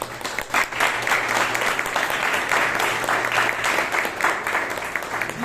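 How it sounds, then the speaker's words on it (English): Audience applause for the Sergeant at a Toastmasters meeting in Bangalore, a sustained, dense round of clapping from a room of people, loud and steady throughout. "A big round of applause to our Sergeant."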